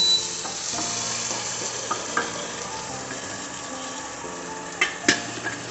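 Fish curry sizzles steadily in a hot pan as a little hot water goes in, with occasional clinks of a spoon against the pan.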